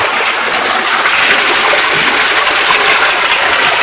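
Water gushing and splashing steadily in a tubewell bath outdoors, a loud, continuous broadband rush close by with no pauses.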